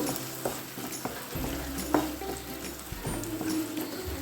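Mashed pointed gourd paste being mixed by hand with green chilies and salt, giving soft, irregular wet squelches and light taps, quiet and close, with no voices.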